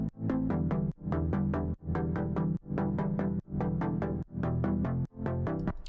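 A synth arpeggio pumps under ShaperBox sidechain volume shaping, loud rhythmic note bursts cut by regular ducking dips where small clicks and pops come through.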